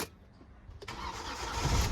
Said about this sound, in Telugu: ఇక నేను ఇంజన్ అయితే స్టార్ట్ చేస్తున్నా ఇప్పుడు